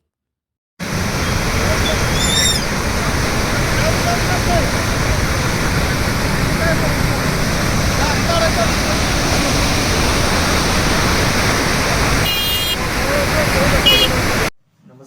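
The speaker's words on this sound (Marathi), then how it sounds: "पन्नास वर्षांनी पुन्हा येरळा दुथडी वाहू लागली" The flooded Yerla river running high after heavy rain, a loud, continuous rushing roar of fast water that sounds close and fills the whole stretch before cutting off near the end.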